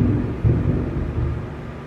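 Thunder from a lightning storm, a deep continuous rumble that swells slightly near the start and rolls on steadily without pause, moderately loud and heard alone.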